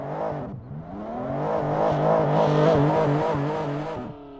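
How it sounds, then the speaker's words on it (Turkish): A racing car engine in the Assetto Corsa racing game revs hard and steady, its pitch climbing and holding in a loud, continuous roar with no voices. "biraz engine'i ben arttırayım siz de sesi böyle bir senfoni olarak bir dinleyin"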